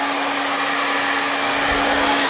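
Close, loud hair dryer blowing steadily on hair for texture, one unbroken airy roar with a constant motor whine and no voices.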